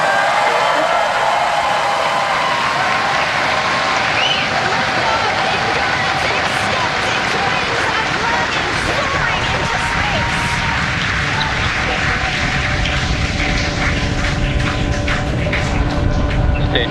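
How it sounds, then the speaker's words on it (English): Roaring rumble of a NASA SpaceX rocket launch with engines at full power, a loud continuous broadband thunder that holds steady throughout, with faint tonal hums mixed in. "Ignition. Engines full power."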